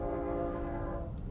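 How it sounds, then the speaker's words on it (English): A train horn blares in a sustained, chord-like tone over the low rumble of rail cars rolling past in Yuma, Arizona, loud and fairly close. "And here comes a train."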